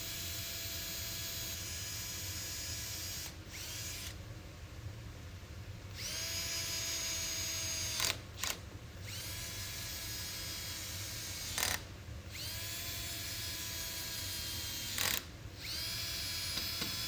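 A power drill bores pilot holes and drives screws into wood while securing a 20-inch planer bed, giving a steady close whir broken by several short pauses and brief ratcheting bursts.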